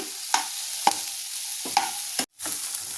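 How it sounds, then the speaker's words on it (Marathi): Green peas sautéing in oil in a pan for a grilled sandwich filling, with a soft steady sizzle broken by about five sharp spatula scrapes and clinks as they are stirred. A brief dropout follows. "आपला मटार तेलावर छान परतला गेलाय"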